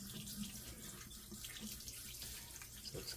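Tap water runs into a sink to rinse a freshly cleaned fish, a steady close splashing stream with small shifts as the flow hits the fish, quiet overall, no voices.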